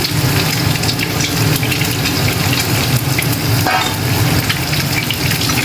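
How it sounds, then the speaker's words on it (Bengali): An egg frying in a pan with a loud, dense sizzle that runs steadily throughout, carrying a low rumbling undertone. "ডিমটা ভেজে নিয়ে তুলে"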